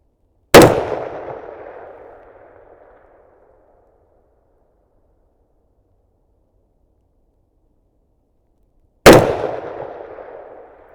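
Two sharp, loud rifle shots from a Ruger SFAR firing handloaded rounds at distant targets, each crack trailing off in a long rolling echo, spaced about eight seconds apart with quiet between.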